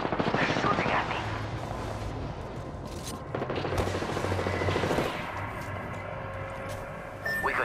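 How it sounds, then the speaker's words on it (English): Gunfire in the battle royale game Apex Legends, bursts of rapid shots crackling through a busy, loud mix of game sounds, with short pauses between volleys and a voice talking over part of it. "Firing! They're shooting at me!"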